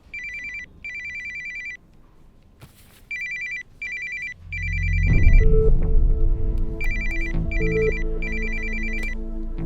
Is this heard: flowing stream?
no